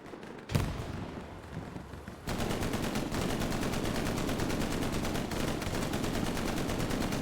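Steady, continuous automatic gunfire in a competitive shooter match, starting after a single sharp shot and a brief quieter stretch, then a rapid, unbroken rattle that holds loud to the end.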